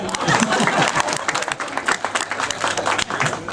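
An audience at a gathering honouring women claps and applauds loudly and continuously. Scattered crowd voices and cheers rise over the clapping.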